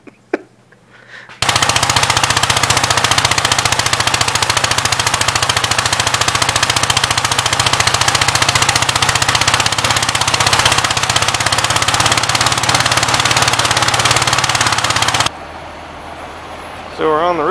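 A Cub Cadet tractor engine runs loud and steady for about fourteen seconds, a harsh rattling roar that starts abruptly and then drops away.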